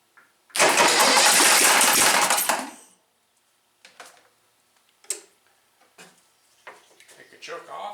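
A rat rod golf cart engine cranks and fires, running loud and rough for about two seconds before cutting out, followed by scattered clicks and clunks of handling.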